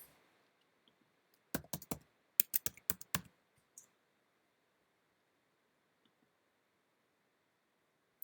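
Short bursts of keystrokes clatter on a computer keyboard as a password is entered, about a dozen crisp close clicks in quick clusters, then near silence.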